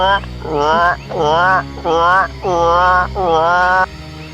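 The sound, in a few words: voice imitating a frog-like creature call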